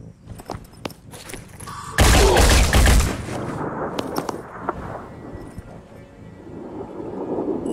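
A weapon fires in the tactical game Phoenix Point: one loud, dense second-long gunshot burst after a few light clicks, then a reverberating tail with scattered thuds and background game noise.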